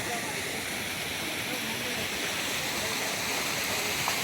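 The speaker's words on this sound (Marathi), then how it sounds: "बघा धबधबा" Constant broad rushing roar of falling water, steady and loud throughout with no pauses.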